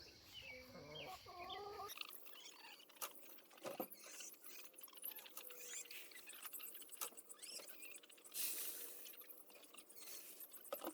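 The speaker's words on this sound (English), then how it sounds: "I've got a few cluckers out here. Cluck, cluck, cluck" Soft, scattered clucking and rustling from a few meat-breed chickens, including big roosters, outdoors, fairly faint, with small clinks and shuffles among them.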